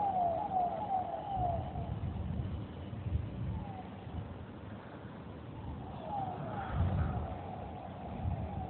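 A vehicle siren approaches, heard as repeated wailing sweeps rising and falling over a steady rumbling background of crowd and room noise, moderately loud with no talk.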